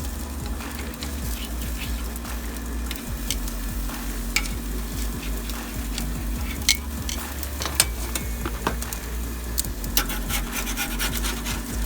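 T-bone steaks sizzle loudly on a grill as they are flipped, a dense continuous crackle and hiss with scattered sharp scraping clicks from the turning, steady throughout with no talk.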